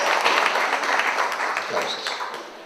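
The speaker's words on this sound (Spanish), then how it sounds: "Aplausos." A conference audience applauds after a talk on urban sustainability and climate change, with steady, dense clapping that slowly fades slightly over a few seconds.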